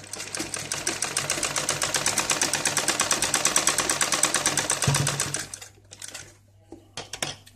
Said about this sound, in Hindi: इस तरफ से भी मैं एक और सिलाई लगाऊंगी इसे बराबर करके पॉकेट को